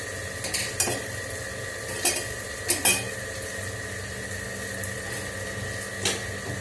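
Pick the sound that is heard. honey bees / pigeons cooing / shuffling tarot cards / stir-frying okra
stir-frying okra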